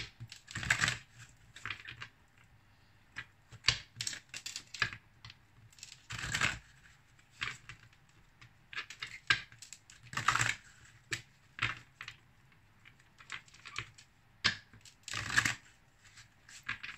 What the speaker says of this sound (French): je vais commencer par battre les cartes